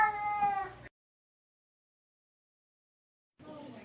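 A house cat gives a close, clear meow, then the sound cuts to silence for over two seconds before a second, softer meow.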